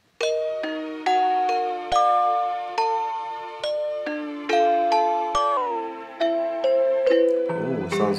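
Pitched-down bell-like melodic sample in a music production session, a slow sequence of chiming struck notes with ringing decays, each hit sharp then fading, played alone at moderate level.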